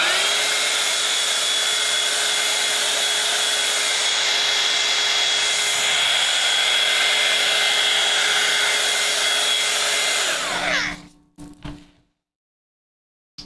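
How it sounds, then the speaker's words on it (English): A heat gun drying paint on a doll's head blows a steady, loud, close whine and airy roar for about ten seconds, then it winds down and cuts off, with a few brief handling knocks before silence. "get one of these heat guns"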